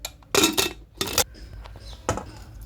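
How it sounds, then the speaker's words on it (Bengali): Cooked goat meat curry is tipped from a pot into a dish, giving a few distinct metallic scrapes and clanks, two close and strong, then a softer one after a pause. "চলো ঢেলে দেখা যাক মাংসটা কেমন হয়েছে"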